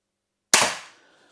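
A single test shot from an X-Bow FMA Supersonic crossbow: one sharp, loud snap at close range, followed by a quick fading decay with no talk.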